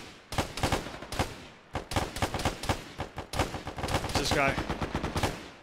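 Gunfire in a military shooter game: repeated bursts of automatic rifle fire, loud and close, crack in quick clusters separated by short pauses, with someone speaking briefly over the shooting.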